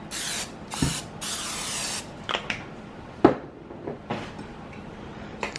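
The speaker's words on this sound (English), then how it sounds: "Now I'm going to spray my baking dish with a little bit of nonstick cooking spray." Three hissing bursts of nonstick cooking spray onto a baking dish, a short one then two longer, followed by faint taps and rubbing.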